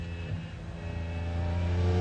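A McLaren F1 race car at the 1995 Le Mans 24 Hours brakes hard and downshifts into fourth gear for the left-hand Indianapolis corner, its engine a close, steady, droning tone that grows slightly louder.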